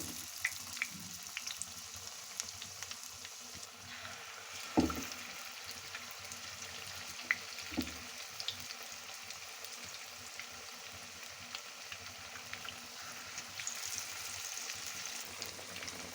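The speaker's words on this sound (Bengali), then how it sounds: "তেল গরম হয়ে গেছে, এবার বেগুনিগুলো একে একে তেলের মধ্যে দিয়ে দেব।" Potato-stuffed eggplant fritters sizzle in hot oil with a soft, steady crackle, broken by a few sharper pops and clatters as pieces go into the pan; no voices.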